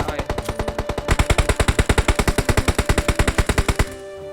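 Rapid automatic gunfire in PUBG Mobile, a long burst of evenly spaced loud shots lasting several seconds before cutting off abruptly.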